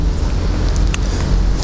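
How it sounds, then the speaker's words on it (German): Wind picking up in a large German city rumbles heavily across the microphone, a loud steady low roar with faint street sounds behind it and no talk. "Der Wind nimmt etwas zu"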